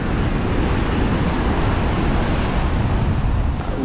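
Cold wind buffets a deserted seaside beach, a steady loud broadband roar of gusts and surf with no voices.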